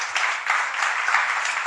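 Church congregation applauding in praise to Jesus, a brief burst of dense, steady clapping from many hands, fairly loud and close, with no voices.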